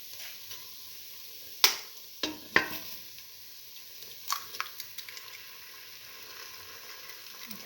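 Two eggs fry in a pan, a steady soft sizzle broken by sharp crackles and pops, several loud spits close by in the first seconds, then smaller ones.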